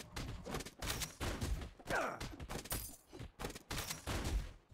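Rapid bursts of gunfire and impact thuds from the video game Marvel Super War, fired in quick repeated volleys with loud, punchy hits and no talking.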